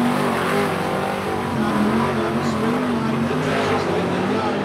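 Modified race cars in a pole shuffle at Huntly, engines roaring loud and continuous as the pack races past, with a race commentator talking over the din.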